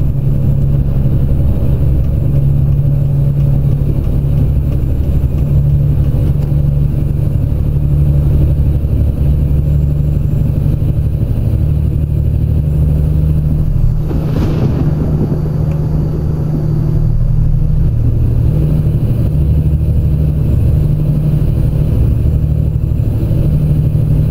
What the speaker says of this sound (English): The truck sounds for this one are built into the mod.